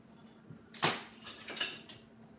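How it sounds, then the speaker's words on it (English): A whisk stirs a sugar mixture in a bowl, making a few quick metallic clinks and scrapes against the side. "whisk this together"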